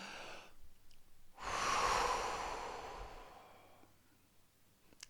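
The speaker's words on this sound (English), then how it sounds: "we take a deep breath to blow out the candles" A deep breath drawn in, then one long, strong exhale like blowing out birthday candles, close and loud, tapering off slowly into quiet.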